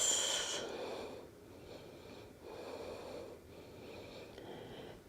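Slow, deep breathing during a yoga pose, audible inhales and exhales with a slightly wheezy, airy texture, close and fairly quiet, cycling steadily with no talk.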